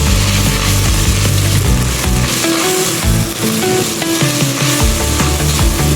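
Meat and carrots sizzle steadily in a hot pan, a loud continuous fry broken by stirring scrapes and clacks of a utensil, with no talking.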